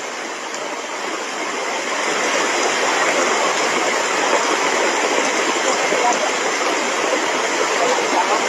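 Floodwater surging under a bridge in Oroquieta City during Christmas flooding, a loud, dense, steady roar of rushing water that swells after the first two seconds and then holds constant.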